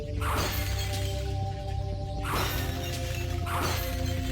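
Three crashing smashes in a video game fall about a second apart, each a sharp burst of breaking debris over a steady droning musical backdrop, with no one talking.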